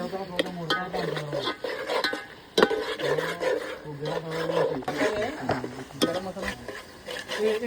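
Chicken cooked outdoors in the fields with mutton and chicken masala, tomato and garlic is stirred in a pot, giving scraping, clattering utensil sounds. Voices talk over much of the stirring.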